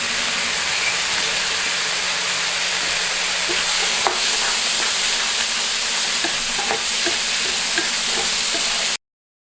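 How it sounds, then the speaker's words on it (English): Vegetables for cauliflower fried rice stir-fry on high heat, giving a loud, continuous hiss and sizzle with faint scraping stirs throughout, before cutting off abruptly. "add the vegetables and cook on a high heat"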